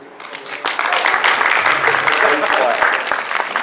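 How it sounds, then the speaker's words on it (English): Loud, dense applause from a convention panel audience rises quickly and holds steady throughout, a broad crackling wash of many hands. "This is the part where you applaud."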